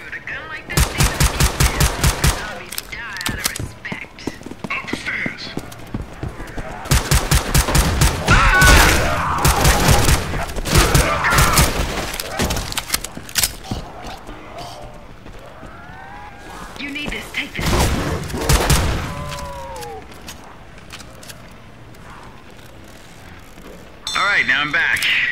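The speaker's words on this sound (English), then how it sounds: "Shoot, a gun like this." Gunfire in a modded first-person shooter with a body-cam style view, heard as loud rapid automatic bursts in several spells with short gaps between, mixed with a voice talking over the action.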